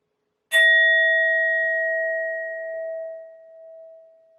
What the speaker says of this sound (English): I'm first going to use my sound bowl to clear and set the energy.